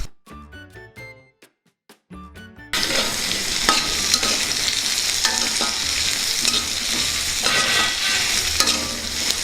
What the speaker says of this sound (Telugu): పచ్చిమిర్చి వేగుతుంటే ఎంత స్మెల్ వస్తుందో